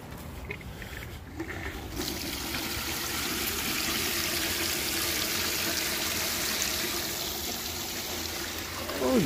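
A cheap bilge pump pushes out a steady, continuous stream of water that splashes and trickles loudly and evenly for several seconds, with no talk over it.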